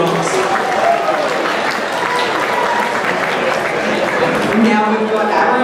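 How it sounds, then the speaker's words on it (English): Sustained clapping from a crowd at a cosplay competition, steady and fairly loud throughout, with voices mixed into the noise. "round of applause for Sailor Moon and Tuxedo Mask."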